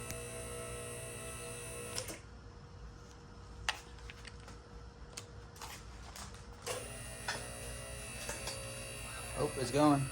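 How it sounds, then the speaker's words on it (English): A QuickJack 7000TL portable car lift's electric pump running, a steady close mechanical whine and buzz that stops for several seconds, with clicks and handling noises, then starts again. "watch how long it takes me to pump before anything goes"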